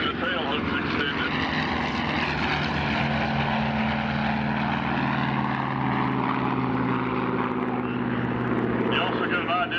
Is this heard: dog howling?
no